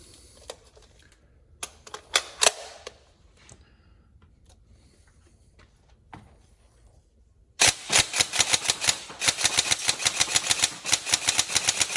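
An upgraded Tokyo Marui M4 NGRS airsoft rifle with an aluminium barrel and short rail fires, with a few quiet handling clicks followed by a long run of sharp, evenly spaced shots at close range.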